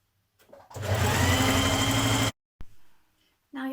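A sewing machine stitches across the shoulder seam of a Burda 6060 dress in one loud, steady run of about a second and a half, followed by two brief restarts of the motor.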